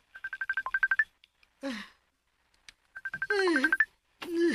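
Telephone keypad tones beep in two quick runs of dial tones while a call is placed, with a person speaking briefly between and after them.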